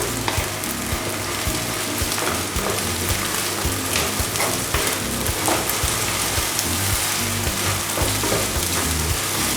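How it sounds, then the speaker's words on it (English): Eggs sizzle and crackle steadily in hot vegetable oil as they are fried and softly scrambled for restaurant-style egg fried rice, with occasional scraping stirs, loud and close throughout, no talking. "So I'm going to fry the eggs here."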